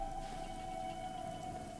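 Steady rain ambience in the video game Fallout 4, a soft continuous patter with a constant low tonal hum running underneath, no voices.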